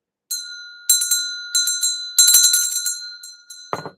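A small bell is struck several times in an uneven rhythm, each bright metallic ring sustaining and fading, loud and close, with a brief clunk at the end.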